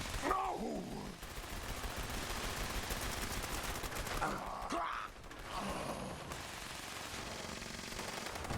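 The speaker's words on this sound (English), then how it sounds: "Get him with the Gatling laser." A Gatling laser in the video game Fallout 76 fires sustained bursts of rapid energy shots amid loud, busy combat noise.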